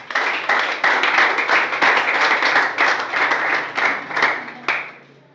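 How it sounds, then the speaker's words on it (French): An audience at a French-language self-improvement seminar claps for itself, dense continuous applause with sharp individual claps, fairly close and steady before tapering off abruptly, with no talk over it. "Waouh, acclamez pour vous-même."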